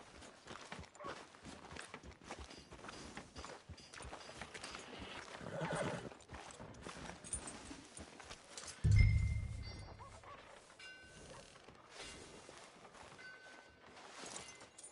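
Horse hooves clop along at a steady walking pace amid busy video game ambience, with a heavier thud partway through and faint voices in the background.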